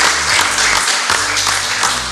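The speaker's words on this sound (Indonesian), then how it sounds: "Kita berikan aplaus untuk kedua tim" Audience applause for both teams at a theology quiz event, dense continuous clapping from many hands, loud and close throughout.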